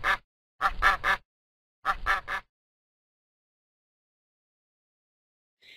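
A duck quacks in two quick bursts of three loud, close calls each, separated by a short pause, followed by silence and a faint sound at the very end.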